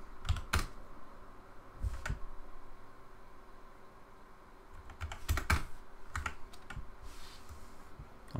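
Someone types Lua script code on a computer keyboard close by, with quick clusters of key clicks separated by short pauses in an otherwise quiet room.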